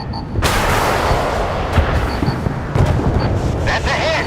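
Naval guns fire in the Force of Warships game as loud, continuous rumbling booms and blasts roll together, with sharp electronic beeps over the top.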